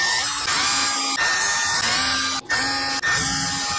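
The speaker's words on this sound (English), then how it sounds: "we're just going to drill just beyond my repair on either side." A power drill whines at a high, steady pitch while drilling holes in a plastic trash can, briefly stopping twice before spinning up again, close by with no talking.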